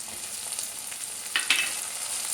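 Onions and tomato fry in a pan with a steady, soft, close sizzle that hisses evenly throughout, brightening slightly near the end, with no voices.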